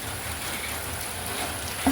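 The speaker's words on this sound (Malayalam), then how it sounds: "അത്രക്ക് വെള്ളമാണ് മഴ പെയ്ത തുള്ളി വെള്ളം ഇവിടെ പെയ്ത വെള്ളം" Continuous rain-like patter and hiss of rainwater leaking and dripping inside a house, steady and fairly close, with no voices.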